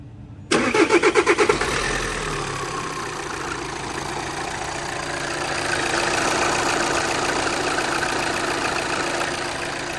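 A VW Amarok engine, after a thermostat replacement, cranks and fires, then settles into a steady idle that runs on evenly and fairly close, with no talking.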